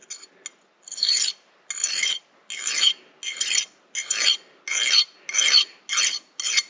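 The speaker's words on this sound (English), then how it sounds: "That is the sound of a file not cutting." A hand file dragged across hardened steel, skating over the surface without cutting, in about ten loud, evenly spaced rasping strokes close up with short pauses between them.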